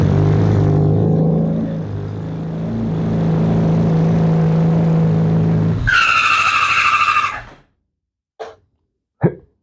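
A Honda CBR600RR motorcycle engine, started with the clutch pulled in, runs with a loud, steady close-up drone for about six seconds, then a high whine before it cuts out into silence broken by two brief clicks.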